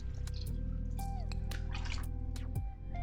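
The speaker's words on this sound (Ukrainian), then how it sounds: "А зараз виливаємо сюди 4 склянки води." Four glasses of water poured into a cooking pot of buckwheat with vegetables and mushrooms, heard as a steady close liquid splashing and dripping with a few sharp clinks, without talk.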